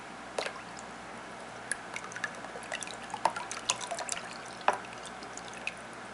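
Thick homemade root beer mix drips and plops into a container in scattered, irregular wet splats, fairly faint and close, with no talking.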